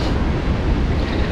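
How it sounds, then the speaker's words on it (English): Strong gusts of wind buffet the microphone outdoors in Brenham, Texas, in a loud, continuous rumbling roar. "And as you can tell, it's fairly windy today"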